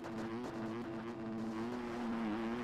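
A Yamaha 250F motocross bike in the MX Bikes video game holds a steady, buzzing engine drone in third gear while heading downhill, loud and continuous with only slight pitch wobble.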